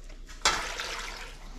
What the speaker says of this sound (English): I'm gonna drop in about 4 cups of chicken stock and 1 cup of water.